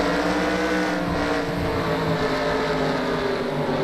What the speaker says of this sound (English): I also wanted you guys to listen to that throttle as well.